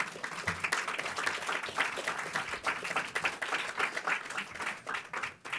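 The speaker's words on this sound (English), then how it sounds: "Maybe applause while we do this." Audience applauds at a Shanti Bhavan Children's Project event as guests are called to the stage, clapping steadily and fairly close throughout, with an uneven rhythm and no talk over it.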